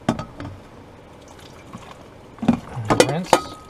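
Leftover coffee water poured into a washing bucket inside an RV in sub-zero winter weather, brief splashing and trickling bursts with a few light clinks, mostly toward the end after a quieter stretch.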